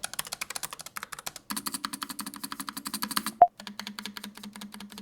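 Mechanical keyboard being typed on, with rapid, crisp clicky keystrokes in fast bursts, a brief pause, one sharp louder clack, and a thocky spacebar sound among the strokes, close up and with no voices.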